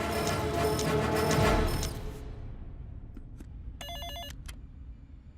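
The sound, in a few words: telephone ringing during a phone call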